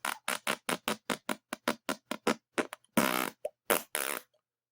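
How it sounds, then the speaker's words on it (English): Fart sound effects: a rapid run of loud, short, buzzy bursts, followed by a few longer drawn-out blasts and then silence. "fart noises again"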